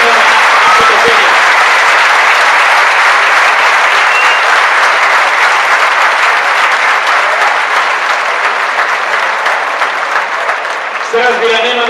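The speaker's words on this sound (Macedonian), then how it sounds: "Со аплауз за благодарение на Пеце Димитровски, еден од најдобрите ракометари во историјата на нашата земја." A crowd at a veterans handball match between Pelister and Makedonija gives sustained applause to honour handball legend Pece Dimitrovski, loud and steady throughout, with a voice over a loudspeaker breaking in near the end.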